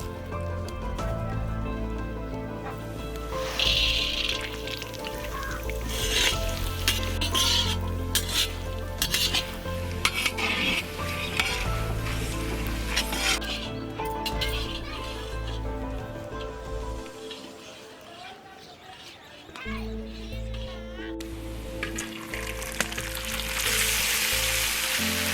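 Panch phoron spices and potatoes frying in hot refined oil for Bihari aloo samosa, a loud continuous sizzle with metal ladle scraping and stirring against the pan throughout.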